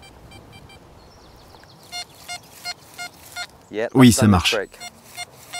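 An XP Deus metal detector gives a short string of rhythmic pulsed beeps, then a louder burst of bright warbling target tones near the end, with a brief spoken French reply over the signals.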